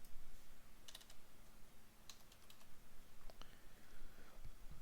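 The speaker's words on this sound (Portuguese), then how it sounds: "Eu vou digitar Express -EJS." Keys clicking on a computer keyboard as a short command is typed, with a few scattered bursts of taps against a quiet background and no talk.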